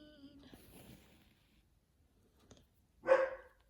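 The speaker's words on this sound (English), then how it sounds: "No barking, Mila." A single short, loud dog bark near the end, after faint indistinct sounds and a quiet stretch.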